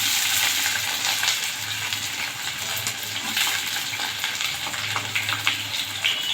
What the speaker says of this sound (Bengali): আমি একসঙ্গে পেঁয়াজটা আলুর সঙ্গে ভেজে নেব।